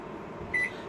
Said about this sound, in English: and I start kitchen timer for